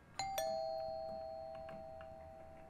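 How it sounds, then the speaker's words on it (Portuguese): Doorbell in the Fears to Fathom horror game, two bright chimes in quick succession, the second tone ringing out and slowly fading over a quiet room. "Para de tocar a campainha!"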